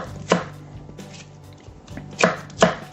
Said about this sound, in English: I'm gonna go ahead and chop all this up